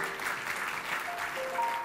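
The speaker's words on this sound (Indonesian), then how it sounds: "Puji Tuhan, kasih tepuk tangan untuk doa kita." A congregation applauds in a church, giving steady, fairly loud clapping with no break.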